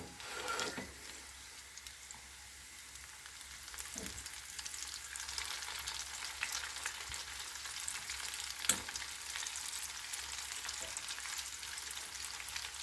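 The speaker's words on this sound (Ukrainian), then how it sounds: "І так обсмажуємо всю нашу цибульку" Onions frying in oil, a steady faint crackling sizzle running throughout, broken by a few brief clicks and knocks of utensils, no speech.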